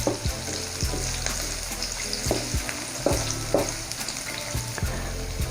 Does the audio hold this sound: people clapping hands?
no